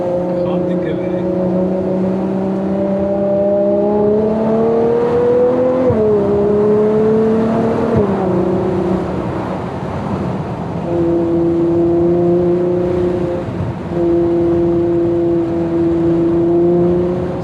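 A Ferrari 812 GTS with its V12 engine drives at low speed, a steady droning hum with gentle pitch rises and dips that holds throughout at close range, loud and continuous.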